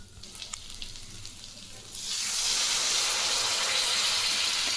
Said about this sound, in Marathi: तर पाणी टाकून घेऊ